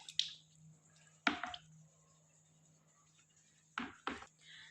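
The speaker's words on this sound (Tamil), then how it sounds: "அந்த ஸ்பாஞ்சில் இருக்கக்கூடிய எல்லா தண்ணியுமே ஃபுல்லாக வெளியே வந்துடும்" A sponge mop is wrung through its roller, giving a few sharp squelching presses with water squeezing and dripping out, separated by quiet gaps over a faint steady hum.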